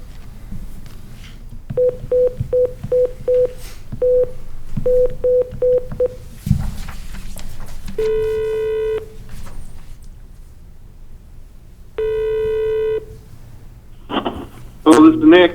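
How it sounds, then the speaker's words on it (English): A phone call is dialed in a series of quick keypad tones in two bursts. Two long ringback tones follow with pauses between them, and then faint sounds as the line connects. Quiet room noise sits underneath. "I'll give him a call quick here."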